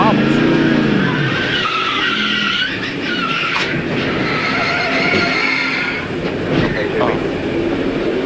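Race car in a 2002 NASCAR Winston Cup race skidding as the back end snaps out, a loud sustained tire squeal over engine roar lasting several seconds, with a commentator talking over it.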